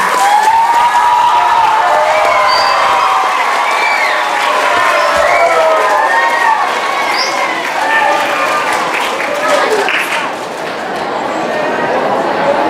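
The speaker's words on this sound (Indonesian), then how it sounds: "Marilah kita berikan tepuk tangan yang meriah kepada 3 paslon kita." A school audience at a junior high student council candidates' debate breaks into loud, sustained applause mixed with cheering and shouting voices, a dense crowd roar that barely dips across nearly thirteen seconds.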